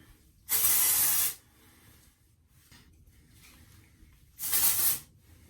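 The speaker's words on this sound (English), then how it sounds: "That's what texture spray does." Two long hissing bursts of texture spray are sprayed onto hair, each lasting just under a second, close and fairly loud, separated by a few seconds of quiet.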